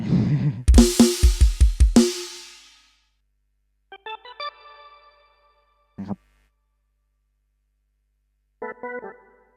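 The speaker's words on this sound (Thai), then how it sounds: "นี่เป็นเสียงของ XPS 10นะครับ" A Roland XPS-10 synthesizer keyboard plays in bursts: a rapid run of loud bright notes, then sparse quieter stabs and short chords separated by silence.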